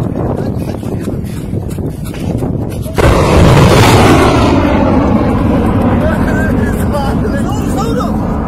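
An air defense missile launch and blast in the sky over the Golan area: outdoor crowd murmur and wind, then a sudden loud boom that rolls on as a long rumbling roar, with voices shouting throughout.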